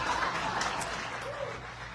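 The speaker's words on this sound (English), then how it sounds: "Give Eric and Marina a huge round of applause" A live event crowd in Vegas applauds Eric and Marina with a brief, moderately loud burst of clapping that tapers off, with some voices murmuring underneath.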